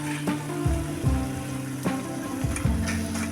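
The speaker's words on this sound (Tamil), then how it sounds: "இதையும் ஒரு 30 செகண்டுக்கு வதக்கிக்குங்க." Chopped tomato and a handful of coconut sautéing in a pan for pepper chutney, a soft continuous sizzle broken by a few scraping stirs, close and moderately loud.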